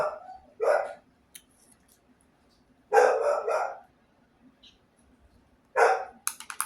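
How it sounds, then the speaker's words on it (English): Dogs bark in short, loud bursts separated by quiet pauses, close by, ending with a quick run of yips. "My dogs are barking."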